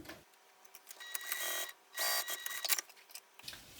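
A sewing machine top stitching along the edge of a handmade wallet, a close whirring mechanical run in several bursts with short pauses between them, heard alone without talking.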